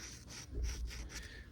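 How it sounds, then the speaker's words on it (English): A nut coated in oil and sand is threaded onto a rusty bolt, producing a close, gritty grinding rasp in short rubbing strokes. "as you thread it on, you'll start to hear that grit"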